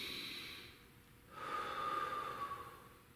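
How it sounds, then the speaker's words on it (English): A single deep breath taken mid-stretch during a black belt stretching session, heard close and soft as a steady airy inhale or exhale lasting a couple of seconds, with no talking. "I take another deep breath."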